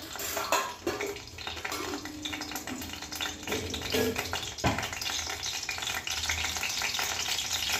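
Cumin seeds hitting hot oil in a pan, a loud, close, steady crackling sizzle with occasional scrapes of stirring and a brief utensil knock, no voices.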